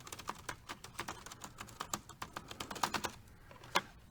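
Quick, light taps on the keys of a JLab JBuds wireless keyboard on a desk, a close, quiet, irregular clatter of individual keystrokes with no talking.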